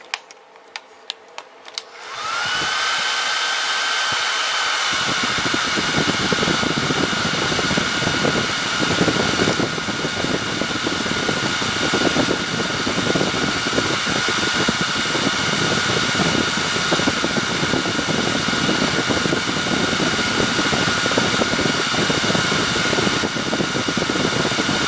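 A Salon Series hair dryer runs steadily on its low heat and low fan setting, starting after a click about two seconds in and holding a constant close, loud whirring blow with a faint high whine throughout.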